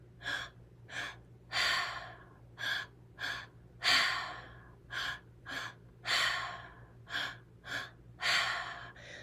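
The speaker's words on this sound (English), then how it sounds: "Allowing that breath to be very deep and audible." Deep, audible breaths drawn and released through the mouth in slow rhythmic cycles, about a dozen breathy surges each rising and fading, close and intimate over a faint low hum.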